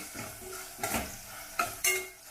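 Garam masala and other spices frying in oil for a North Karnataka moth bean curry, stirred with a spoon: a soft steady sizzle broken by a few sharp scrapes and clinks against the pan, close by, with no voices.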